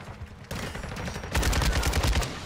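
Rapid gunfire from a shooter video game played on an Xbox controller: dense, loud automatic bursts that grow heavier and more continuous in the second half, with no voices.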